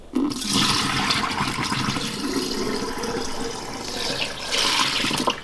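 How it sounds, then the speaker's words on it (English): Water and contents dumped out into a sink while cleaning a cheap scooter part, a loud gushing, splashing rush that eases briefly midway, then surges again. "just dump it out in the sink"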